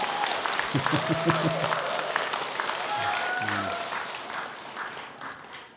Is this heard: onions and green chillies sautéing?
no